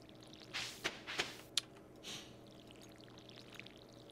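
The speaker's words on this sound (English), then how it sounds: "for today, we are going to water our crops" Watering crops with a watering can in the farming game Stardew Valley, a few short splashy pouring swishes in quick succession, then a softer one and faint trailing drips, moderately quiet.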